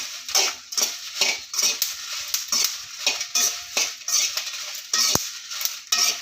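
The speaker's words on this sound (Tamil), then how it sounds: "இப்போ மிளகாயை நல்லா வறுத்துடலாம்" Dry red chillies are stirred and roasted in a pan for idli podi, a rhythmic scraping of a spoon against the pan, repeating about twice a second, close and fairly loud over a soft sizzle.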